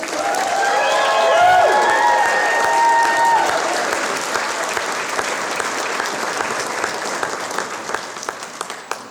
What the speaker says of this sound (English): So can we just cheer for them one more time?